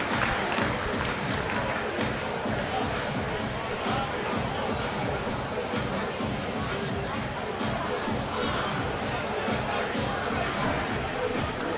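A boxing crowd in Melrose roars and murmurs steadily at the end of round 6, a dense, sustained hubbub of cheering voices filling the arena at a moderate distance.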